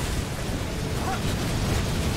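Shoulder-mounted howitzer cannons fire in EDF 4.1, making a continuous dense roar of blasts and rumbling explosions that blend into one dense wash of noise with no clear individual shots.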